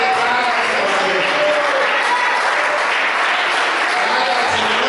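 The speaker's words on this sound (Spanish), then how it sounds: "Dale esa ofrenda de palmas al Señor." A church congregation claps hands together in praise, a dense, steady wash of many hands close by with faint voices calling out beneath the clapping.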